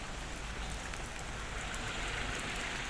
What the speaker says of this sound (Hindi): बारिश हल्की हल्की हो रही है।